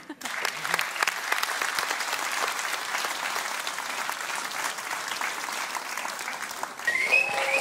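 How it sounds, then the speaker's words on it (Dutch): An audience at a Peel en Maas singing sing-off applauds a duo, a full, even burst of clapping lasting several seconds with faint voices mixed in. "Wat een applaus."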